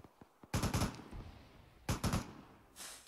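Gunfire in the Arma 3 military shooter: a few faint distant pops, then two close bursts of rapid automatic fire about a second apart, each with rolling echo, and a softer rushing burst at the end.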